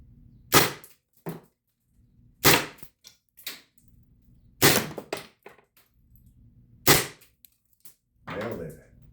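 An HDR 50 Gen 2 CO2 pistol fired at coconuts: four sharp, loud cracking shots spaced about two seconds apart, each followed by a short thud or rattle, then a brief softer clatter at the end.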